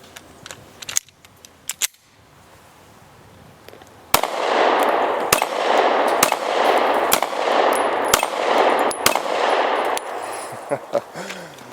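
Sharp gunshots from a Beretta Nano, a small pocket 9mm pistol, ring out at a shooting range. A few isolated cracks come first, then a steady string of evenly spaced loud reports, each followed by a lingering broadband ring.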